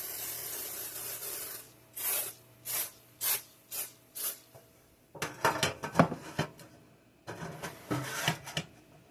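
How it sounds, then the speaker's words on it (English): Several short hissing bursts of cooking spray on a pan, followed by clattering and scraping of the pan and utensils nearby. "let me spray my pan and put them in there"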